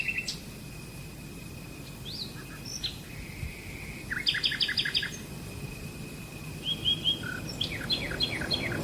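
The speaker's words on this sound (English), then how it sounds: "As the nightingales fill the twilight air with song" Nightingales sing at twilight in a rural village setting, with clear repeated whistles and rapid chirping trills close by over a soft background hush, and insects faint in the distance.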